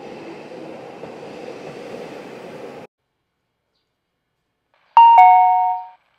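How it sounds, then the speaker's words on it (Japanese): A steady rumbling hum cuts off into silence, then a bright electronic chime rings out a short two-tone melody as a train-approach announcement at a Japanese station. "上り列車が来ます。"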